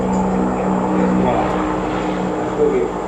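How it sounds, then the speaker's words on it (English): Propeller airplane from a nearby airport passing over a home, a low droning engine hum building slightly, heard faintly under a speaking voice. "Hear the airplane coming."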